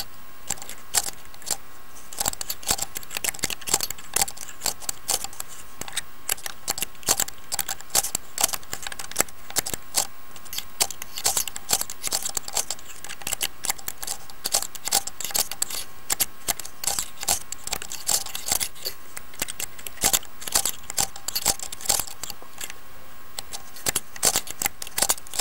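A lock pick rakes a padlock with rapid, dense metallic clicking and scratching, close-up and continuous in quick irregular bursts, with no voices.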